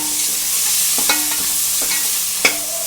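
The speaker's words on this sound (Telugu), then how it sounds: "టమాటా వేసుకుని ఒకసారి కలుపుకుందాం." Tomatoes being stirred into a broad bean (chikkudukaya) curry in a pan, with a steady sizzle of frying underneath and several sharp spoon scrapes, the loudest near the end.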